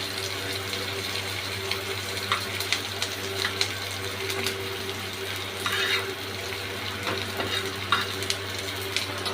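Bottle gourd peels fry gently in a pan, a steady low sizzle with faint stirring scrapes and occasional soft crackles, close and even throughout with no talking.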